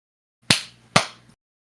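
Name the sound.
hand clap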